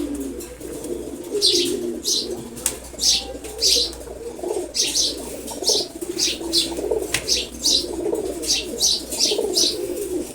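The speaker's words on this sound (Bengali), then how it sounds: "মাদিটা দেখেন, মাশাআল্লাহ অসাধারণ একটা মাদি কবুতর।" A pair of pigeons, including a hen, coo close by in a repeated rhythmic series, with bursts of wing flapping and light rustling between calls.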